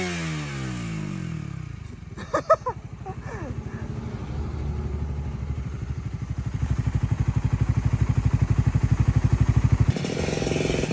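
A motorcycle engine idles and then revs in a steady, rising pulse, close and fairly loud, with a brief clatter early on and a shift in tone near the end.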